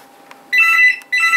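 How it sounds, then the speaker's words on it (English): An indoor telephone rings in two bursts of a bright electronic trill, loud and close, with a short pause between them over a quiet hum. "Oh, for Pete's sake, that frickin' phone today."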